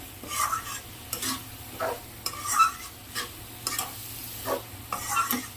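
Pigeon meat and spices sizzle in a pan as a spoon scrapes and stirs in repeated strokes, each stroke bringing a brief rise in the frying hiss.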